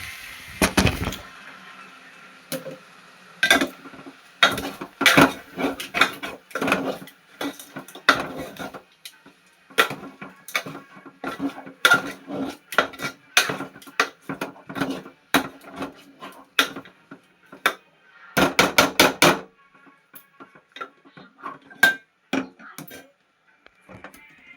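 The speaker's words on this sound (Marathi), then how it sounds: "तर मटण आणले, तर हलवून घेतो पहिलं" Pieces of masala-coated mutton are turned in a cooking pot with rapid, irregular clanks and scrapes of a ladle against metal, loud and close, coming in quick bursts with short pauses between them and no talking.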